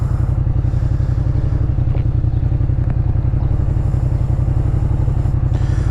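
A Yamaha MT-07 motorcycle cruises steadily along country roads, its twin-cylinder engine giving a continuous, throbbing rumble, loud and close, with a few faint clicks over the top.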